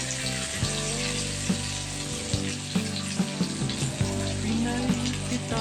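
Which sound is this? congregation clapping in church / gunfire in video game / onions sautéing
onions sautéing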